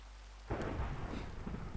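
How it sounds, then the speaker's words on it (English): A thunderstorm in Minecraft breaks in suddenly with a loud, rumbling thunder crash. Steady rain hiss continues after it, and no one speaks. "I'm gonna go and get rid of this thunderstorm."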